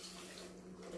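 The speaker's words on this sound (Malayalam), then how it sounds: "കുറച്ച് വെള്ളം ഒഴിച്ച്" Water poured into a pan of mushroom curry makes a steady, continuous splashing pour that runs unbroken through the whole second, close and fairly loud with no talking.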